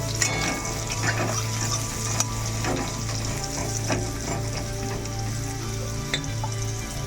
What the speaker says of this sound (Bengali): তেলের মধ্যে মাছটা ভাজা করে আলুটা ভাজা করে নেবো মাছের তেলে